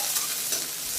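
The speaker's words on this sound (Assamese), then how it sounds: "এইখিনি এতিয়া ভাজি লওঁ দেই অকণমান" Bay leaves and onion fry in mustard oil in a pan for a fish curry, giving a steady close sizzle with faint stirring crackle for about a second, no voices.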